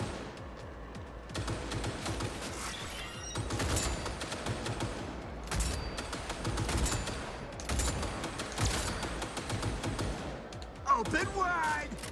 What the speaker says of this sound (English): Are you shooting at me now?